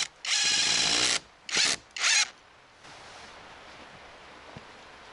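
A power drill with an ordinary bit drives self-tapping screws into a clay-and-wood wall build, in three loud close whirring bursts, the first about a second long, followed by quieter steady background noise.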